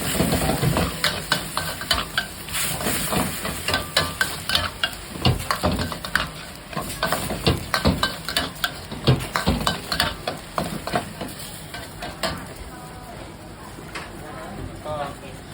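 Garlic pork stir-frying in a pan in a Chiang Mai, Thailand kitchen: steady sizzling with frequent scraping and clanking of a utensil against the pan, with someone talking over it throughout.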